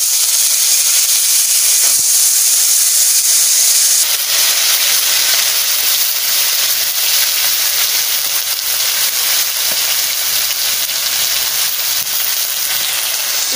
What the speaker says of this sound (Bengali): সর্ষে দিয়ে দিচ্ছি, শুকনো লঙ্কা দিয়ে দিচ্ছি, কাঁচা টমেটো দিয়ে দিচ্ছি।